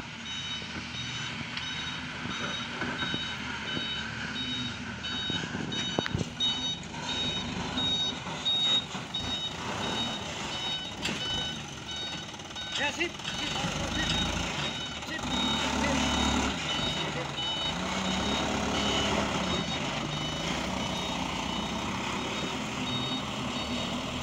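A truck reverses at a village road-building site, its high, regular reversing beeps repeating over a rumbling engine, with traffic noise and faint voices in the background.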